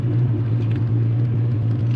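A 1988 Ford Mustang Foxbody engine idling, a loud, steady low rumbling hum heard up close and continuous without variation, no talk.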